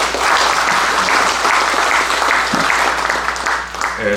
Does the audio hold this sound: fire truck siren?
no